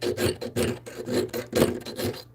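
A hand file rasps across metal in a steady series of roughly six strokes, each a gritty scraping burst separated by brief pauses, close and fairly loud with no voices.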